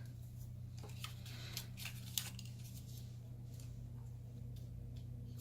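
Several crisp snips of scissors cutting, spaced irregularly over a few seconds against a low steady hum.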